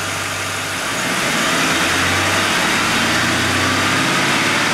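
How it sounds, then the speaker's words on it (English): A car engine runs steadily close by, its roar rising and holding at a higher pitch as it is revved during an alternator charging test. "just to make sure, we're going to rev the engine."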